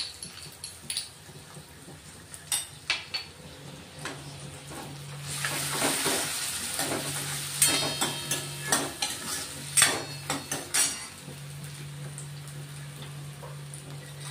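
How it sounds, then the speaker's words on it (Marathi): Garlic-ginger paste frying in a pan for dal tadka, with a soft sizzle under intermittent stirring and spoon scrapes, close and fairly quiet, no speech. "लसूण अद्रकची पेस्ट केलेली आहे ती टाकून घेऊ आपण आता"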